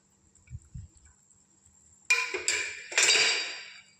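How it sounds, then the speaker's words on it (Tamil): A pot of tomato rasam with garlic, coriander and grated coconut comes up to a boil, giving bursts of bubbling and sizzling in the second half after a quiet start with a faint steady tone. "இப்போ பாருங்கள், கொதி ஆரம்பிக்குது."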